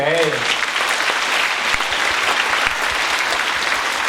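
A school graduation audience gives sustained, dense applause that fills the hall, loud and steady from start to finish, with a voice briefly heard at the very beginning.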